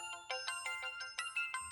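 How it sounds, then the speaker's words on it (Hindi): A mobile phone ringtone plays a quick run of bright electronic beeps in a steady, repeating melodic pattern, clear and alone. "उस्ताद, फोन बजाता"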